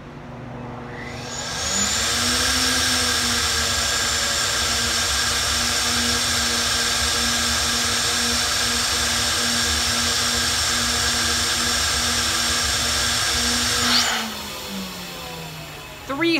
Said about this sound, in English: So now we're gonna run a 650. Let's flow it up.